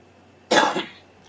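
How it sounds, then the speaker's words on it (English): A single sharp cough from someone with a lingering cold bursts out, close and loud, then trails off quickly into quiet. "Apologize for the cough, still getting over the last vestiges of this cold."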